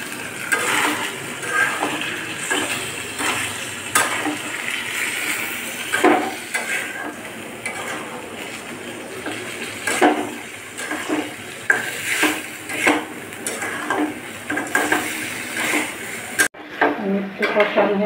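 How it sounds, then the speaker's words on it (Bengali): Mutton being stirred with poppy seed paste, nut paste, roasted cumin and garam masala, with repeated spoon scrapes and clanks against a metal pot over a low sizzle, close, under faint talk. "এখন মাটনে এলো পোস্ত বাটা, বাদাম বাটা, ভাজা জিরে, গরম মশলা দিয়ে একটু নাড়াচাড়া করে তারপরে দুধ দিয়ে নেওয়া।"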